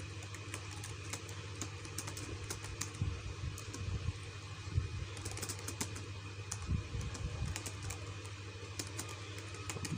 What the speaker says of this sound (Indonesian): kita ketik nih di keyboard kita